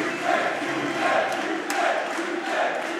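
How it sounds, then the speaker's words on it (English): An esports crowd at a Super Smash Bros. Melee crew battle, England versus Germany in losers finals, roaring and cheering in a loud sustained wash after the UK side wins, with swelling bursts of noise. "The UK wins. Crowd goes crazy."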